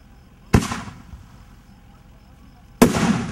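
Two King of Kings artillery shells from Hot Shot burst one after another about two seconds apart, each a loud sharp crack with a short rumbling decay over quiet outdoor ambience.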